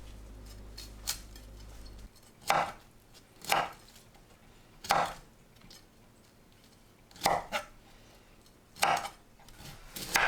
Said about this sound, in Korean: 씻은 브로콜리를 한 입 크기로 썰어주세요.